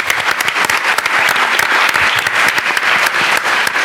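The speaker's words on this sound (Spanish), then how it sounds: "Por favor, un aplauso para estos panelistas." An audience at a round-table panel applauds the panelists, dense sustained clapping filling the room, close and fairly loud.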